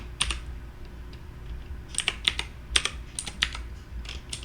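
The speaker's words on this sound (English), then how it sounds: "I ended up typing it" Someone types on a computer keyboard nearby in uneven bursts of crisp key clicks over a low background hum, with no voices.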